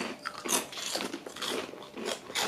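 Crisp crunching of a salty, plain rice cracker being bitten and chewed up close, a run of brittle snaps and crackles repeating over a couple of seconds without speech.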